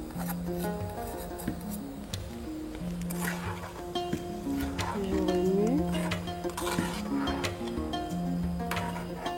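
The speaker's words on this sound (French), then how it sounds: "Je vais remuer ma sauce d'abord" A pot of peanut-paste sauce being stirred, with repeated scraping and rubbing strokes of a utensil against the pot, close and moderately quiet, over a steady background hum with a few light clinks.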